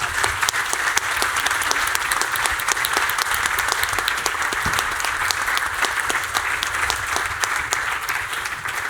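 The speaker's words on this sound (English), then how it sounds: "let's all give these guys a round of applause." Sustained round of applause from an audience at a changemakers presentation event, steady dense clapping throughout with a few sharper individual claps standing out, no talking.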